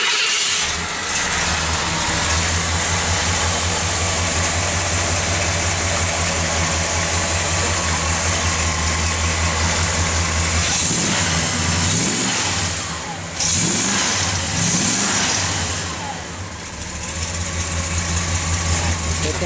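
A 1967 Ford Thunderbird engine cranks and catches, then idles with a deep, steady rumble and a few swelling revs near the end, loud and close with no talking.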